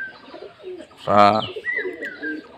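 Pigeons kept at home coo in a short burst, with one loud, close coo in the middle and softer calls around it.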